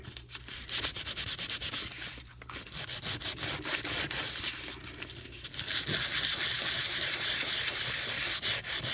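Steady back-and-forth sanding of a wooden trinket box, rough scratchy strokes in a quick rhythm, close and loud, with a brief pause before continuing more intensely.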